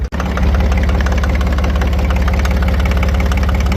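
The engine of an International 284 tractor idles, a loud, close, steady rhythmic chugging with slight knock that keeps going without a break.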